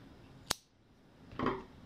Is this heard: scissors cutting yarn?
yes